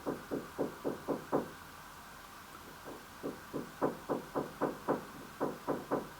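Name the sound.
knocking on a wall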